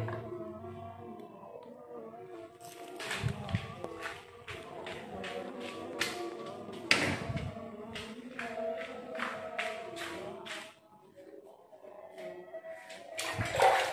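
Water is splashed in repeated bursts onto a bathroom surface to wet scale before cleaning, each splash a short, bright burst of spray following the next in an uneven rhythm, close by, with a voice speaking faintly in between.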